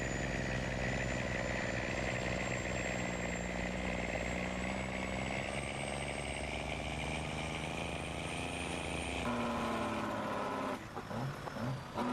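A tractor engine in Farming Simulator 19 drones steadily and loudly with a constant harmonic hum, shifting pitch slightly near the end as it changes load.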